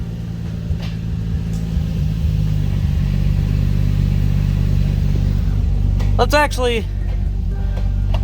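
A vehicle engine idles steadily and loud in gear after a driveline vibration fix, a constant low rumble throughout, with a brief whirring, rising tonal sweep near the end; a voice is heard.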